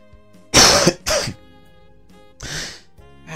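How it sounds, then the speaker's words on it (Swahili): Throat clearing and coughing from one person: two loud rough bursts close together, a pause, then another cough and the start of a fourth, close and otherwise quiet. "ananifanya hadi napata kikohozi"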